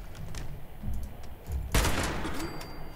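Gunfire in Fallout 76, with a rapid series of shots punctuated by one loud, sharp blast near the middle, over a low game background.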